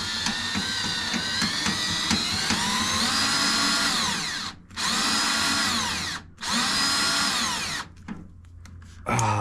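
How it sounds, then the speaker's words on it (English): A power drill drilling out fasteners on an arcade cabinet during a Tekken 3 conversion, whining loudly and steadily in three long bursts separated by brief stops, with a short sputter at the end. "so I just need to drill them out"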